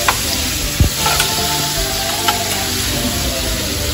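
Garlic shrimp frying in a pan, giving a steady loud sizzle with a few brief stirring scrapes near the start.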